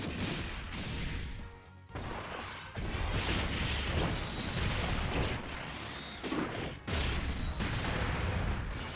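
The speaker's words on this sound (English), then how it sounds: "immediately a super attack" Super attack effects in Dragon Ball Z Dokkan Battle fill the space with dense, continuous crashing explosions and impacts, loud and sustained with brief dips between blasts.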